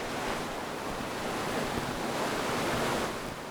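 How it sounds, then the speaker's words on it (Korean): Sea waves roll and wash steadily near an island where shipwrecks lie, a loud, continuous surf mixed with wind buffeting the microphone, with no voices. "오늘 여기 보니까 파도가 생각보다 좀 있긴 한데"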